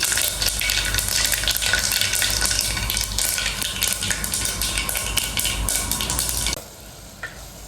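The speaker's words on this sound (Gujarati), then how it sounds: "તેલ ફૂલ ગરમ થઈ ગયું છે, તો રાઈ થોડીક નાખી દઈ અને થોડુંક જીરું નાખી દઉં" Mustard seeds, cumin and asafoetida sizzle loudly in very hot oil for a Gujarati spiny gourd tempering, a dense steady crackle that cuts off abruptly near the end, leaving a faint hiss.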